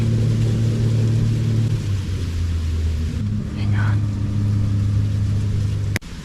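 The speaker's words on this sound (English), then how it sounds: "Engines passed far too close" Quad and other vehicle engines pass close by on a farm at night, a loud low rumble droning steadily, dipping briefly and swelling again, with a sharp knock near the end and a short spoken remark.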